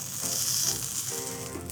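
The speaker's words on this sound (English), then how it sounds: "I'm going to heat up a metal skewer, get it really hot, and add a perfect grill mark on the other side" A red-hot metal skewer sears grill marks onto shrimp, giving a short continuous hissing sizzle that stays fairly steady and close, then eases slightly, with no voices.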